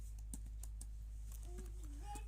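A few soft, scattered keystrokes on a computer keyboard while text is entered into a WordPress post, faint and close over a steady low hum, with a hint of voice.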